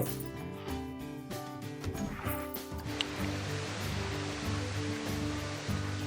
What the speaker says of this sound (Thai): นี่เราก็ได้น้ำตกแล้ว